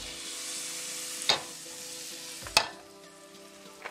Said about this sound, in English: Put a little more butter in here.